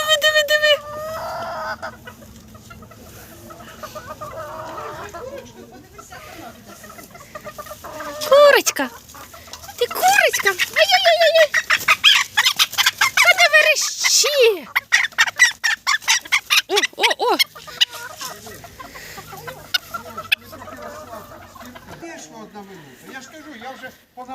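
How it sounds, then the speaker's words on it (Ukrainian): A rooster calls out over a run of short, busy clucks from several hens nearby, with people chatting and laughing throughout. "Це півник."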